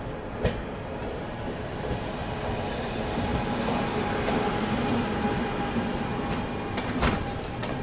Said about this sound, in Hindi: और यार ये बांद्रा टर्मिनस पटना सुपरफास्ट।